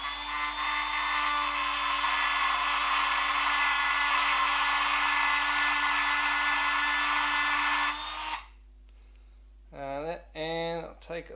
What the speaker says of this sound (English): I'm just going to Dremel this little piece off here.